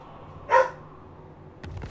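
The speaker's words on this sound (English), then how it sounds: "Doggo's barking." A single dog bark rings out sharply at moderate distance, followed by faint low rustling and background hum.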